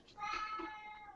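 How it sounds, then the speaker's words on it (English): A house cat lets out a single drawn-out meow, fairly faint and slightly muffled, heard from the background during a call. "I've got a very noisy cat."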